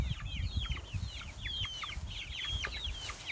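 Chickens clucking and squawking in a busy, overlapping flock as they are herded into a coop before rain, with repeated sharp calls close by over low background rumble.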